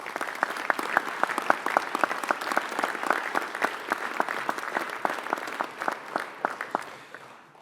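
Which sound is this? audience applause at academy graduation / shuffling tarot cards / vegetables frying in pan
audience applause at academy graduation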